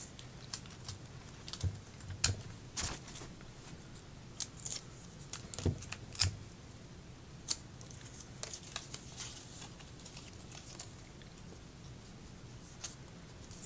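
Scissors snip and trim card stock for a handmade birthday card, a series of faint, sharp clicks and crisp cuts scattered irregularly over a quiet room background.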